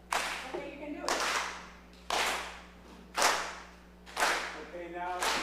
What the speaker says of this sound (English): clap with me